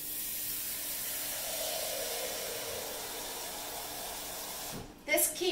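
A steady broadband hiss of steam rises as about 1.5 cups of water go into a hot pan in an oven beneath a baking cheesecake, continuous for several seconds before ending in a few brief clatters.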